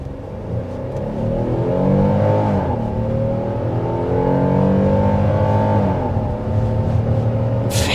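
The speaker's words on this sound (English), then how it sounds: "A lot of you guys really like that V6 sound" A 2024 Kia Telluride's V6 engine revs up and accelerates, a strong, smooth rising note that climbs and falls in pitch across several seconds, loud and continuous with no talking.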